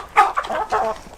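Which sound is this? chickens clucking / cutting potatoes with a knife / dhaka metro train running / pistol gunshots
chickens clucking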